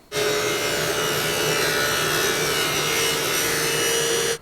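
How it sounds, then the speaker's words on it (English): A circular saw fitted with a thin-kerf 7 1/4 inch blade trims a sixteenth of an inch off a piece of ebony for inlay, a steady close, loud cutting whine and rasp held evenly for about four seconds, no voices. "I've installed a regular 7 1/4 inch circular saw blade because it has a very thin kerf"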